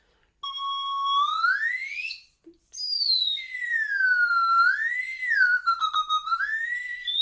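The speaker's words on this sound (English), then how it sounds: "Can make some really, really funny sounds with that whistle." A loud, high-pitched toy whistle sounds alone in long sliding tones, swooping up and down, with a brief break before warbling on.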